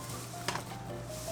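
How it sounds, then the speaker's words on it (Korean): Dried anchovies are being stir-fried dry over medium heat in a pan, giving a soft, continuous sizzle with a brief scrape of stirring partway through. "멸치 2컵 볶는 중이에요."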